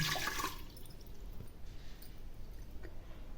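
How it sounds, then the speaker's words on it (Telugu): Water is poured into a rice cooker holding basmati rice: a brief gushing splash at the start, then fading to quiet trickles and drips. "4 గ్లాసుల రైస్కి 8 గ్లాసుల వాటర్ పోసుకోవాలి."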